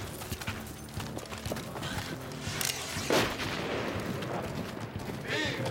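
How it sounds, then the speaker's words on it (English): Musket gunfire rings out in a 1993 war film, with sharp reports, one especially loud, over a busy, continuous background of horse hooves clip-clopping and battle noise. "let's load up and do some shooting"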